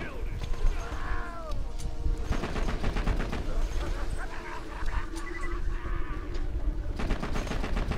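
Rapid-fire weapons in the shooter video game Borderlands 2 rattle off in fast, dense bursts, loud and continuous, layered with other busy game effects and crackling impacts, with heavier bursts at the very end.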